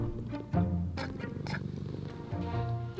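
A young but fully grown kitten purrs steadily while being gently scratched under the chin, a close, continuous low rumbling with soft rhythmic pulses and no talking.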